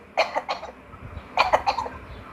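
Two short bursts of coughing, each a quick series of three or four harsh coughs, close by with a pause between.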